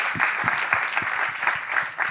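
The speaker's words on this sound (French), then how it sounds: "J'aimerais qu'on applaudisse Salomé Berliou qui doit nous quitter." A debate audience claps steadily for a departing speaker, a dense wash of many hands with soft, regular low thumps running through the whole stretch, and no voices.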